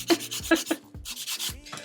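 Builder gel nails being filed and shaped, short rasping strokes in quick succession, close up and crisp, several rubbing passes in under two seconds.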